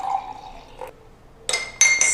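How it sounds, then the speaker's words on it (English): Water is poured into a glass holding sea buckthorn pulp concentrate, giving a short trickling fill close by, followed by brief bright splashing and gurgling near the end. "I'm just going to be adding 50 to 100 ml of water."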